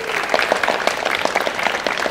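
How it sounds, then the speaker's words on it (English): Audience applause at a student town hall welcoming the Secretary of Education, a dense, continuous patter of many hands clapping at a steady, moderate level throughout. "Round of applause."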